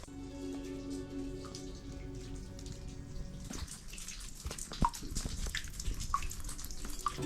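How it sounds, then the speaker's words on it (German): Water drips and splashes in an echoing, flooded bunker, with scattered drops landing irregularly over a steady low hum. "Man hört überall tropfen und plätschern"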